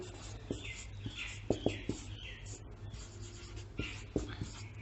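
Pen scratching across paper for short handwritten notes during a chemistry lesson, giving close, soft strokes and taps in irregular bursts over a faint steady hum.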